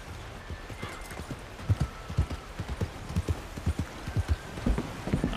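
Rhythmic clip-clop of horse hooves trotting at an even pace in a video game, close and distinct, with no talking.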